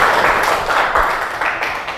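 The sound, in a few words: applause from a class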